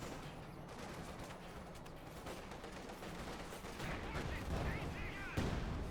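Machine gun fire in Company of Heroes 2, a World War II strategy game: sustained, crackling bursts of gunfire across the clip, growing louder toward the end, amid battlefield noise and talk.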